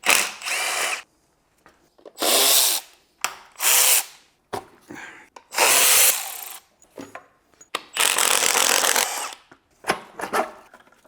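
Power tool at work removing the intake manifold from a BMW E46 330i, short loud bursts of whirring with gaps between, close-up and alone, about ten separate runs.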